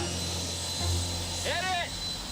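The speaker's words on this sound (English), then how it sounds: "Hear those turbines spinning." Turbines on a car spinning up with a steady whooshing whine that swells briefly, heard close, with a voice exclaiming over it.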